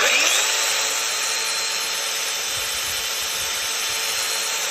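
A Festool Domino XL joiner runs with its front piece removed, giving a steady, loud mechanical whir with a high whine, close by and alone for the whole stretch.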